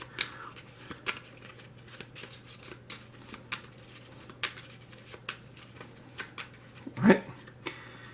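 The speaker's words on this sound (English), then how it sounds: "Now we want to go ahead and shuffle this. This is our starter deck." A starter deck of cards for the board game Dungeon Flee is shuffled on a tabletop, giving a run of soft riffling and tapping sounds with a louder clack near the end, close and fairly quiet.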